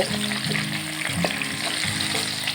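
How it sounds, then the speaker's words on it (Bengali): Cut potato pieces with a little salt and turmeric sizzle steadily in hot oil. The close, continuous frying is broken by a few soft stirring knocks. "তেলটা ভালো করে গরম হলে এরপর কেটে রাখা আলুর টুকরোগুলো তেলে দিয়ে দিলাম।"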